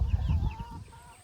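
Hungry backyard chickens cluck close by during feeding chores, a burst of low, busy clucks and chatter in the first half that thins into quieter, scattered calls.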